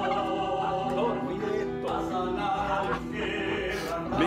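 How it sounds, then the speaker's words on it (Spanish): A turkey gobbles in a dense, continuous outdoor scene at a mission trip stop in San Jacinto, Bolívar, Colombia, its harmonic calls layered with other fowl and background activity throughout. "El pavo sí que hermoso de pavo"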